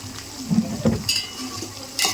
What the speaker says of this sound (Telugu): ఉల్లిపాయ పచ్చిమిర్చి ఇలా వేగుతున్నప్పుడు గుప్పెడు పుదీనా కొత్తిమీర రెండు కలిపి కట్ చేసి ఉంది వేసేసుకోవాలి